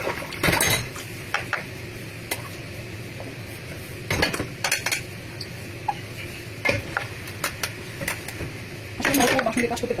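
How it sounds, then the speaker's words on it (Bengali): Dishes, pots and utensils being washed by hand in a home kitchen, with scattered clinks, clatters and scrapes of metal and crockery at close range over a low background hum. "এখানে কিছু বাসন পড়েছে, বরাবরের মধ্যে এগুলোকে ধুয়ে পরিষ্কার করে নেবো"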